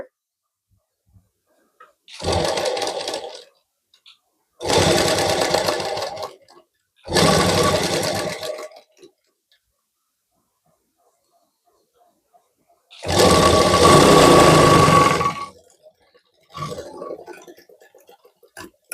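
A sewing machine stitches a blouse sleeve in five separate bursts of rapid, close mechanical whirring, with silent pauses between them.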